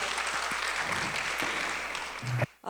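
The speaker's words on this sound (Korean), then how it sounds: "Please give them a big round of applause once again." Steady audience applause, a room full of clapping hands at a moderate distance, fading out abruptly at the end.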